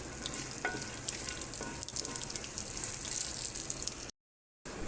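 Peanuts fry and get stirred in a pan, a continuous close crackling sizzle with occasional scraping and knocks, then a brief drop to silence before it resumes.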